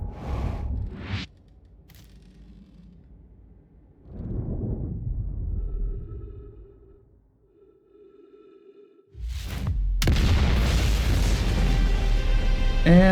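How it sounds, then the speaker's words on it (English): The Big Bang explosion in the game Outer Wilds, a deep booming rumble swelling out of near silence, then a massive roaring blast that sustains loudly to the end. "And there it is, the Big Bang."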